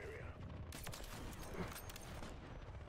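Call of Duty gunfire rattles in a faint, sustained burst of rapid shots, heaviest in the middle stretch, with a voice talking underneath.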